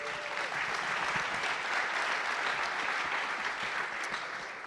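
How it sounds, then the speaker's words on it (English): Steady audience applause for the panel guests at an education summit, a dense even patter of many hands clapping throughout with no voices standing out. "Give them a round of applause"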